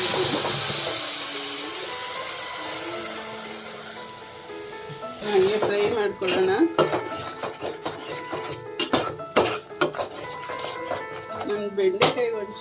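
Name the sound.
ground masala with chilli and coriander powder frying in pan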